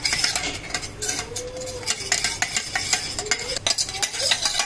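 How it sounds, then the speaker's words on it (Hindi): Semolina roasting over low heat in a pan for rosh bora, stirred with a utensil that makes quick scraping and clinking strokes in an irregular rhythm over a faint sizzle, close and fairly quiet. "अब इसमें ये जो सूजी है ये वाली डालेंगे, एकदम धीमी आंच पे गैस को रखें और अब इसको भूनना शुरू करते हैं।"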